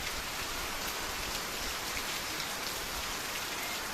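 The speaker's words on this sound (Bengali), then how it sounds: "আর এই যে দেখো কীরকম বৃষ্টি পড়ছে।" Steady, dense rain drums on the tin roof of a house, a continuous close hiss of drops with no pauses and no voices.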